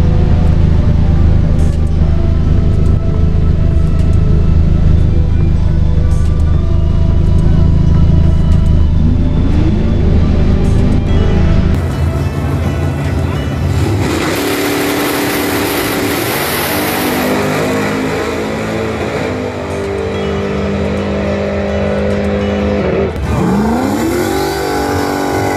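A drag race car with a two-step launch limiter revving hard at the strip, a loud continuous roaring engine that shifts pitch partway through, close and dominant throughout with no talk.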